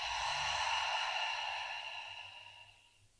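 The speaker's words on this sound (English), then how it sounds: "Exhale on this side." A single long, soft breath exhaled during a yoga practice, a close airy hiss that fades out over a few seconds.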